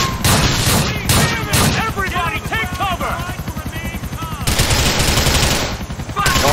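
Micro SMG gunfire in Grand Theft Auto 4, rapid repeated bursts of shots, loud and close, over a helicopter-like drone with shouted voices mixed in.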